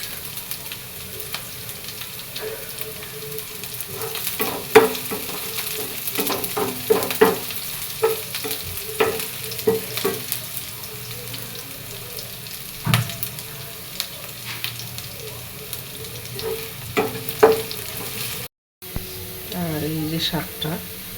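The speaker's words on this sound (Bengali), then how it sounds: "শাক ভাজি হচ্ছে" Leafy greens stir-fry in mustard oil with dried chillies, making a bubbling sizzle broken by clattering stirs and scrapes, while someone talks throughout; a brief cut comes near the end.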